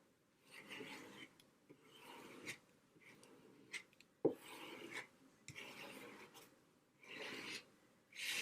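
Paint being scraped across a journal page in short repeated rasping strokes, each a second or so long, close and fairly quiet, with brief pauses and a sharp tap between passes.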